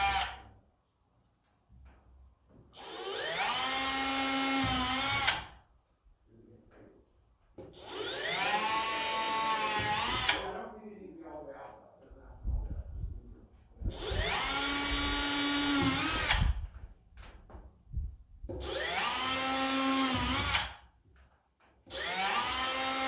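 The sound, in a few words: drilling holes with a power drill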